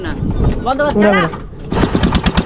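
A small boat engine on a Sundarbans river chugs in quick, close pulses, loud near the end, after a stretch where voices talk over a lower motor drone.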